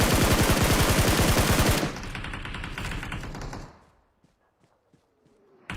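Rapid automatic fire from an M4 rifle in a video game rattles loudly and continuously for about two seconds, then fades into softer game ambience and near silence with a few faint ticks.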